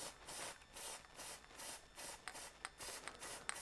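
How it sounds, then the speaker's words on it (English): Plasti Dip aerosol is sprayed onto an ATEM Mini Pro video switcher in a series of about eight short, hissing bursts with brief gaps between them. The sound is close and fairly quiet, with no talking. "let me spray just a teeny bit more along here"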